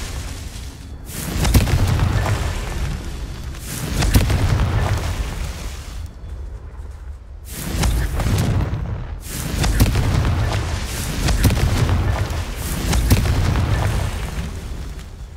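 Repeated booming fire-spell blasts from the Confringo charm in the Hogwarts Legacy video game, during a Merlin trial, arriving as about six loud, broad explosions at a steady rhythm, each swelling and fading with rumbling low end.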